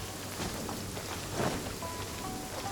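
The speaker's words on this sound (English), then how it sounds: "Taking a stroll in the middle of a downpour certainly rouses the spirit." Heavy rain pours down in the video game Genshin Impact, a steady hiss of dense drops with a soft low rumble beneath, moderately loud and unbroken, with no talking.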